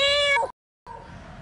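A person's voice imitating a cat's meow, a loud drawn-out harmonic mew, a short silence, then a second, rougher meow-like sound.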